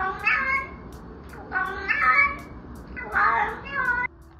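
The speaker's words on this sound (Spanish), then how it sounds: "su dueña la grabó haciendo sonidos característicos entre un maullido y un chirrido" An orange kitten a few months old gives three close, clear calls, each a drawn-out meow blended with a chirping trill, separated by short pauses.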